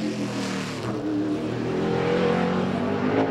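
A Chevy NASCAR Cup race car during pole qualifying roars close by, its engine note climbing steadily as it accelerates hard, loud and alone without talk.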